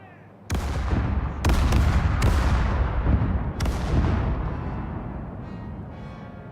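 Ship cannons fire in Caribbean Legend, four or five heavy booms in quick succession, each with a long rumbling tail that blends into the next, loud and close, fading into a low roar at the end.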